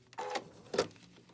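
A sewing machine stitches fabric while piecing a Halloween quilt project box, with two brief, faint bursts of mechanical stitching close by and quiet between them.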